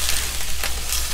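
Marinated, tenderized pork hits a hot wok over high heat with a loud, close hiss of sizzling oil that swells briefly in short waves.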